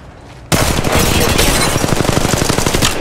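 Sustained automatic gunfire in Apex Legends Mobile erupts abruptly and continues as a loud, rapid rattle of shots with dense battle noise for several seconds.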